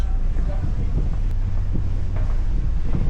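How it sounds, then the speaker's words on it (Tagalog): A steady low ship engine drone rumbles beneath wind buffeting the microphone, with a faint voice now and then. "Ang kaso yung makina ng barko maingay."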